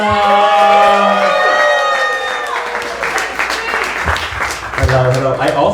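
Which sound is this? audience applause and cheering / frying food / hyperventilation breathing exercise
audience applause and cheering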